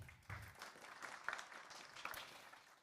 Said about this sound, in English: Your applause, please.